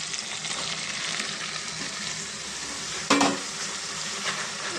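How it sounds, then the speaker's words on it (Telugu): Cucumber pieces fry in hot oil in a pan, giving a steady sizzle with a brief stirring scrape partway through. "దోసకాయ ముక్కలు కూడా ఈ నూనెలో బాగా మగ్గాలి ఫ్రెండ్స్"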